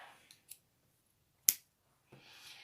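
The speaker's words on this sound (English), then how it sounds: "cut my yarn" A single crisp snip of scissors cutting crochet yarn, near and clear, with a few faint handling clicks and rustles before and after.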